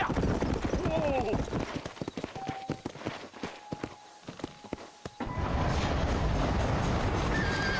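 Horse hooves clip-clop under gameplay talk in the Western video game Red Dead Redemption, and a whinny cuts through partway. The galloping is dense and close at first, thins out in the middle, then returns strongly.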